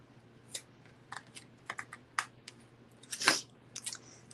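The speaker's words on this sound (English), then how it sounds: "Now we're going to cut those out." Scissors snip through paper while cutting out small flower shapes for stamping crafts, giving scattered close, crisp cuts and crunches at an irregular pace with near silence between them.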